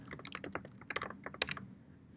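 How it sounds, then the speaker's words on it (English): Quick bursts of typing on a computer keyboard, light close clicks in an uneven run lasting a couple of seconds, fairly quiet and alone. "so I can type that in."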